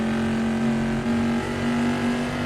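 AC Legends GTC 60s Mod sports car accelerating on track, its engine holding a loud, steady drone with a strong humming tone that barely wavers throughout, heard from inside the cabin.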